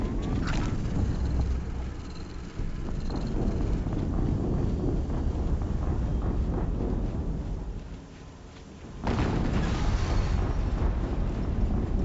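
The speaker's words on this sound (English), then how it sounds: "Another explosion." Explosions go off in the video game Horizon Zero Dawn. Deep rumbling blasts burst out twice, with heavy booms and a rolling low roar between them.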